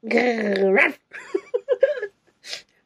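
A person imitates a dog with a drawn-out whining howl, followed by several short yips and whimpering noises, close and unaccompanied.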